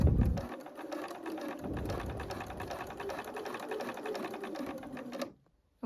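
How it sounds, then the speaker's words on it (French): Sewing machine stitching along the diagonal of fabric for a top: continuous close rhythmic needle chatter running for about five seconds, with a brief low thump at the start, ending abruptly in near silence. "on va coudre au niveau de la diagonale"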